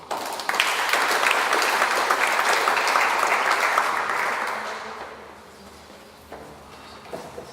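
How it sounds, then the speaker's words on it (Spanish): Warm applause from an engineering conference audience welcoming a speaker, loud and sustained for about four seconds before fading out into quiet room noise with a few scattered claps. "Recibamos con un caluroso aplauso al ingeniero José de Pierola."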